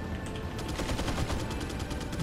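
Enemy gunfire in Resident Evil 4, with LMG-wielding enemies shooting: a dense, continuous burst of rapid automatic shots, loud and steady throughout with no talking.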